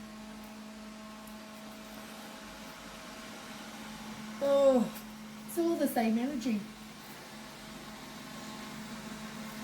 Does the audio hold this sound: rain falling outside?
no